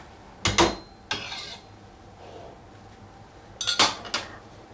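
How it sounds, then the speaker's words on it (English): A spoon clanks and scrapes against a pot while soy mince and aubergine curry is stirred. There are a few sharp metallic knocks, the loudest pair near the start and another cluster near the end, with quiet gaps in between. "I'll give this a good stir and then let it simmer for approximately 20 minutes"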